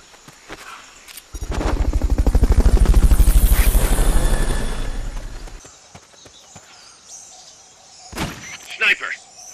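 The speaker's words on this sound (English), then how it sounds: "Fulton recovery subject confirmed onboard helicopter." A helicopter from the video game Metal Gear Solid: Peace Walker swells in with a rapid, throbbing rotor beat during a Fulton recovery, peaking loud and then fading out after a few seconds, followed by scattered sharp knocks.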